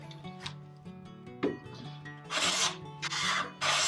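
A hand plane set very fine slices thin shavings from wood in a workshop, giving several close, breathy rasping strokes that swell and fade, the later passes longer and louder over a faint background hum.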